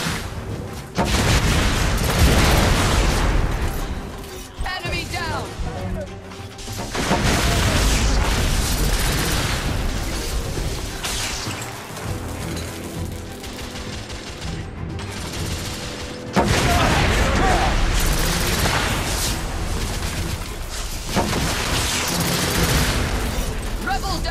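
Explosions and rapid gunfire fill a battle in The Order: 1886 video game, a loud, dense, continuous barrage of booms and shots with shouting voices mixed in.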